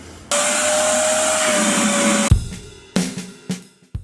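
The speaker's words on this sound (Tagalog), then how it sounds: "the vacuum cleaner is still very impressive" A vacuum cleaner whirs steadily inside a Tesla Model Y RWD during a DIY car wash in the Philippines, its constant motor drone running close and loud for about two seconds, then giving way to several short thumps and bursts.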